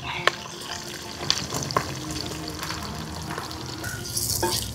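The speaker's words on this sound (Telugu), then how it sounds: "ఉల్లిగడ్డలు మంచిగా పండు వేగాలండి." Onions fry in a pan for a Telangana-style prawn biryani, giving a soft, steady sizzle broken by the clinks and scrapes of stirring. The sound stays close but fairly quiet.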